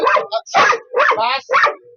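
A dog barking during training, four sharp close barks in quick succession.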